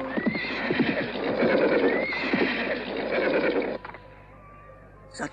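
A horse whinnies loudly and repeatedly in the foreground over steady clip-clop of hooves as a rider blocks a procession, the neighing breaking off near the end and leaving faint ambience.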